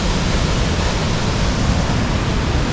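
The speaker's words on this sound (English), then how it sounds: "That's the waterfalls." The twin waterfalls at Bunga Falls produce a loud, steady roar of rushing water close by, a constant broadband wash with no voices.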